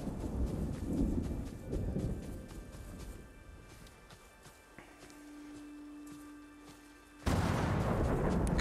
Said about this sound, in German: Knallt denn hier so, Mensch? Gewitter!